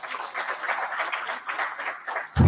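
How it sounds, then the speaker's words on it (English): A conference audience claps for a panel at a plenary session, steady dense applause running throughout, with a louder thump near the end. "give a round of great applause to our panelists, including those who have traveled from abroad"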